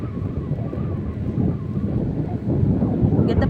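Steady wind buffets the microphone during a calm drive, a dense low rushing roar that stays constant and fairly loud throughout.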